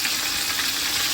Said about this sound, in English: honestly I could just let you watch these things sizzle all day